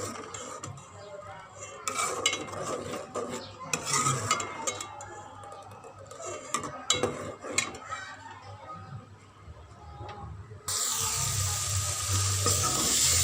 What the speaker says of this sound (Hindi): इस मसाले को हम अच्छी तरह भूनेंगे